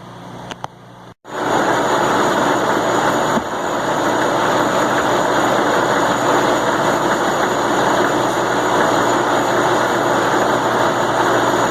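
A Sajo VF300 milling machine hollows out a pocket in a custom log splitter blade. After a brief quiet start, a loud, steady mechanical drone kicks in abruptly and holds unbroken to the end.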